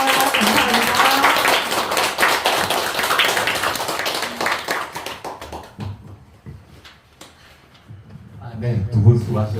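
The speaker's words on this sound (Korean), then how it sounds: "저도 여러분들 옆에 같이 응원의 박수로 마무리 한번 해볼까요" An audience at a literary talk concert with poetry recitation claps in applause, a burst of many hands for several seconds that fades out, then a softer patch of clapping returns near the end.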